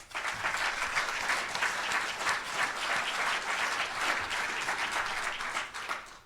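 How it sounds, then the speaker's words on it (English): Steady applause from an audience at an annual meeting, a dense, even wash of many hands clapping that holds at full strength throughout before tapering at the very end. "I think that entire team deserves a round of applause as well"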